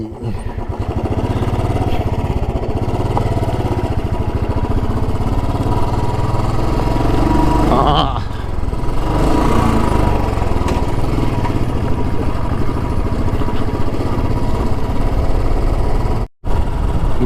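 A motorcycle engine idles with a steady, loud mid-pitched rumble while the bike is turned around on a rough off-road forest track near Siliguri, with a brief dip in the engine note partway through.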